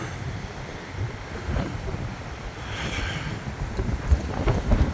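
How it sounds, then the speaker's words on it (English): Rough, gusting wind buffets the microphone outdoors, a low rumbling roar with a few stronger gusts toward the end. "It's so cold and windy."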